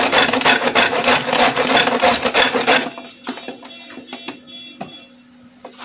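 Coconut is grated by hand in fast, continuous rasping strokes, loud and close for a few seconds, then thinning into softer, scattered scrapes over a faint steady hum.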